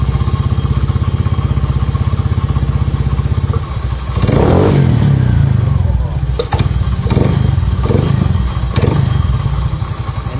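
A motorcycle fitted with an aftermarket exhaust pipe and a DC Monorack idles with a throaty, uneven burble, then gets several sharp throttle blips close by. A voice talks over parts of it.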